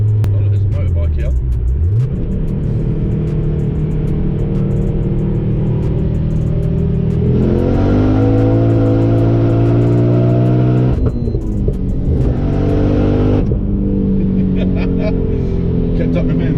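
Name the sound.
sports car engine accelerating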